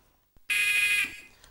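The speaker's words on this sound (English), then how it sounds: "the buzzer will mark the start and the end of the game" A loud electronic game show buzzer sounds for about half a second, a steady high tone that cuts in abruptly after near silence and then stops.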